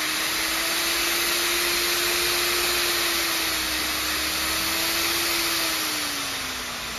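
A Coofix CF-ER002 2200W wood router with six speed settings runs steadily and loud with no load, a constant high whine with a slowly shifting pitch that eases slightly near the end.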